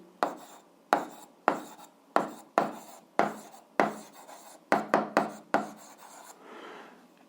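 Pen or chalk strokes while writing on a graph for an eighth-grade algebra exercise, a series of about a dozen close, sharp scratching taps in an irregular rhythm with no talking.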